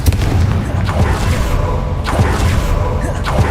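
Confringo fire spell blasts in Hogwarts Legacy, a series of loud booming explosions with whooshing bursts, about three impacts in quick succession.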